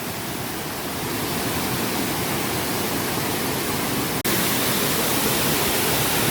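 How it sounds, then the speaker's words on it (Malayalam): A large waterfall inside a forest roars as a loud, steady, dense rush of falling water, close by and unbroken, with no voices over it. "ഇതാണ് ഞാൻ പറഞ്ഞ വെള്ളച്ചാട്ടം."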